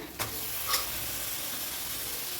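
Curry leaves and squid hit hot oil for a kanava meen kulambu, giving a steady close hiss and sizzle with a couple of brief sharp crackles near the start.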